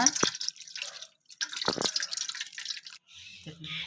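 Watery wheat mixture for halwa trickles and drips while being poured through a strainer into a vessel, with soft splashes and a few brief pauses.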